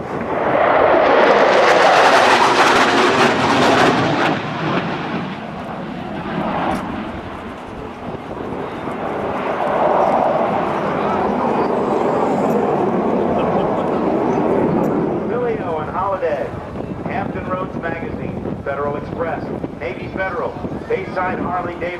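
Navy and Commemorative Air Force Tailhook Legacy Flight aircraft pass over the NAS Oceana airshow, a broad roaring rush that swells early then fades into a lingering rumble, mixed with wind buffeting and faint crowd sounds.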